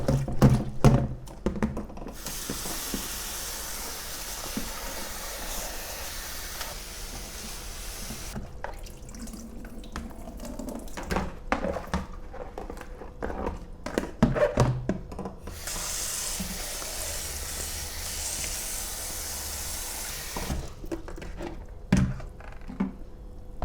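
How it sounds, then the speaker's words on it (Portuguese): Salted cabbage for kimchi rinsed under a running kitchen tap, a steady broad rush of water with thuds and splashes as the leaves are handled, fading to quieter dripping stretches before the flow surges again, close and without talk. "agora nós vamos enxaguar bem várias vezes para tirar todo o sal"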